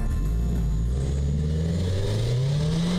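A road-going sports car at full throttle on a race track, engine revving hard and climbing in pitch through the gears with a rough, abrupt shift; loud and close, rising steadily, no talking.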